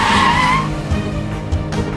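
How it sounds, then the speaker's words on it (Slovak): Tires squeal steadily as a Mazda MX-5 slides sideways in a controlled drift on asphalt, a loud, continuous screech with the engine droning beneath and brief bumps near the end. "Oba týmy si nacvičovali plynulú jazdu bokom a najmä kontrolovaným šmykom."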